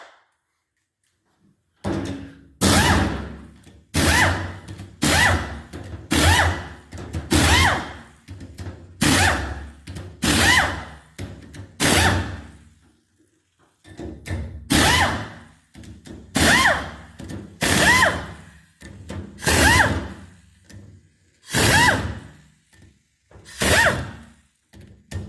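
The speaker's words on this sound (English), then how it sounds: "Use an air tool to pull the rocker arm assemblies off." An air tool works the rocker arm assemblies off a 2004 Subaru engine, firing roughly twenty loud, sharp bursts with short gaps between them, all close by.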